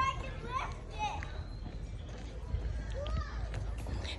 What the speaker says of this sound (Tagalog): Ayan mga naglalaro yung mga bata.